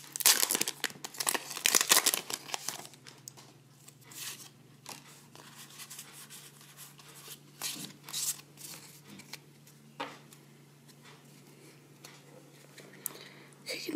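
A Pokémon booster pack's foil wrapper is crinkled and torn open up close, with a loud burst of ripping and crackling at first, then softer intermittent rustles and crinkles.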